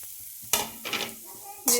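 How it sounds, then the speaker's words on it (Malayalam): Grated coconut frying in a pan, with a constant low sizzle and a few short bursts of scraping as it is stirred. "തേങ്ങയൊക്കെ ഏകദേശം ഞാൻ വറുത്ത് കഴിഞ്ഞു കേട്ടോ"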